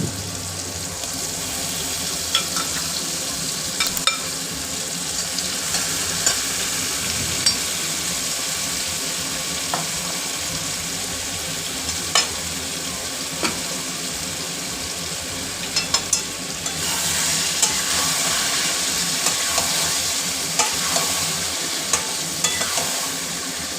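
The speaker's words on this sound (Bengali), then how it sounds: "দিয়ে ভালো করে নেড়ে চেড়ে মিশিয়ে নিচ্ছি পেঁয়াজের মশলাটার সাথে, কষিয়ে নেবো" Marinated mutton is stirred and fried with onion masala, producing a loud, continuous sizzle with repeated scraping stirs and occasional spatula clicks against the pan.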